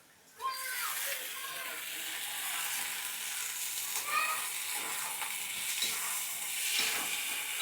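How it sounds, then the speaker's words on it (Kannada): Tomato and masala fry in a pan for home-style mutton sambar, giving a steady close sizzle with occasional stirring scrapes, while a voice talks over the cooking. "ಇದಿಷ್ಟನ್ನು ಹಾಕಿ ಫ್ರೈ ಮಾಡ್ಕೋಬೇಕು ಸ್ವಲ್ಪ ಹೊತ್ತು."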